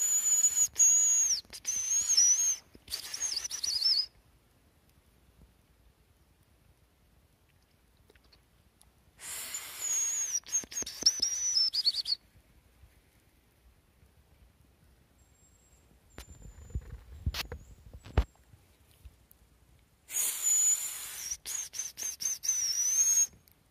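A thin, high whistle from a person's mouth mimics a hazel grouse call in three separate bursts, each a few seconds long, with quiet stretches between.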